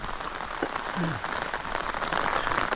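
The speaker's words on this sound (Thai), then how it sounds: "ฝนตกครับผม" Rain falls steadily in a broad, even hiss outdoors at a fishing spot, with a brief faint voice in the background.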